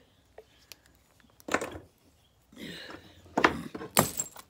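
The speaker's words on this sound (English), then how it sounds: "Dropped my hammer on my toe. Rolled off my tabletop." A hammer rolls off a tabletop in a workshop where stone is shaped by indirect percussion and drops, giving a few scattered knocks and rattles, then two louder clattering impacts near the end, all fairly close with no voices.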